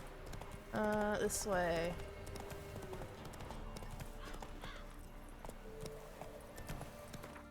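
Horse in The Witcher 3 video game, with a loud whinny near the start followed by steady rhythmic clip-clop of hooves; a short spoken phrase and faint game sounds accompany it.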